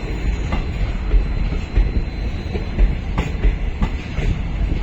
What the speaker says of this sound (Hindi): सूरतगढ़ जयपुर पैसेंजर लुधियाना के एल्को के साथ आ रही है